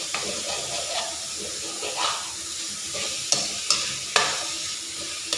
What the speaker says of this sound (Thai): เราจะพัดให้มันสุกมันหอมก่อน